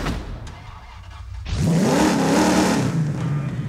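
A 1969 Dodge Charger R/T V8 in Forza Horizon 5 cranks briefly, then fires up into a loud, rumbling idle with a rising rev that settles back, close and alone.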